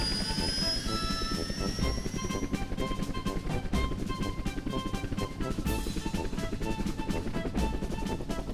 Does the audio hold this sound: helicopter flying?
yes